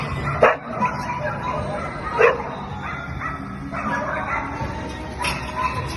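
A dog gives a few short barks and whimpers in a room, with low background noise between the sharp yelps.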